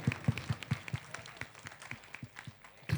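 An audience at a cookery show in an auditorium claps in short, uneven bursts, a handful of distinct close claps followed by scattered softer ones.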